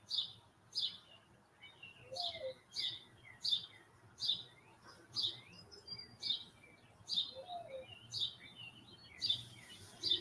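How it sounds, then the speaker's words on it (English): Small birds chirp outdoors in short, bright, regularly spaced calls against a soft background hum, fairly faint and distant, with an occasional lower call between them. "birds chirping, dogs barking."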